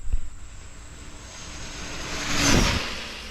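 A Traxxas Drag Rustler RC car on a drag run at full throttle, a rising motor whine that swells to a peak around the middle and then fades as it passes, heard alone with no talk.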